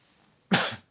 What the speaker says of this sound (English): impromptu shitty little cough there